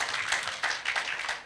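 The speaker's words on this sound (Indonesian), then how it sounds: "Tepuk tangan bagi Tuhan kita." Congregation applause during a church sermon, a steady dense patter of many hands clapping at an even level for the whole stretch, with no voice over it.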